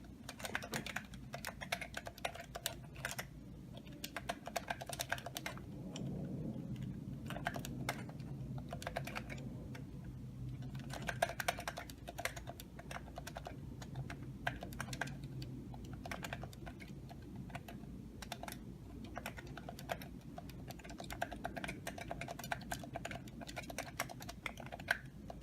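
Steady soft tapping on a smartphone held in an AlphaGrip controller, a quiet continuous run of quick light clicks over a low background hum.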